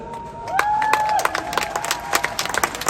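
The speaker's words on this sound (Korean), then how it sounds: "박수를 치려면 한꺼번에 크게 쳐주시기 바랍니다." At a political party rally, scattered clapping and crowd noise rise under cheering voices, with sharp individual claps popping out irregularly as the sound thins toward the end.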